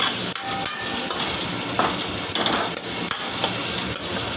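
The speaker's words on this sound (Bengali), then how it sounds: "ক্যাপসিকাম পেঁয়াজ মোটামুটি ভাজা কমপ্লিট" Capsicum and onion frying in a pan for masala dish, with a continuous sizzle broken by sharp clinks and scrapes of a spatula against the pan, close and fairly loud, no talking.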